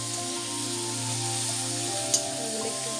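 Onion, chili and tomato frying in a pan, a steady close hiss and sizzle that holds evenly throughout, with one brief clink partway through.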